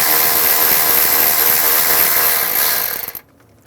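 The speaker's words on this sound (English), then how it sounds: "Using a 10mm socket, we're going to remove the bracket for the engine harness." A ratchet with a 10mm socket whirs and clicks steadily while backing off an engine harness bracket bolt on a 2003-2008 Honda Pilot, loud and close, then stops abruptly near the end.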